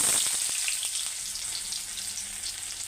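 Chopped onion tipped into hot oil already holding cinnamon, peppercorns and a clove, a loud burst of sizzling at first that settles into a steady, close frying hiss, with no voices.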